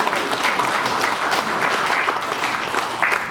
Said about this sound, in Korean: 다시 한 번 더 박수 부탁드립니다.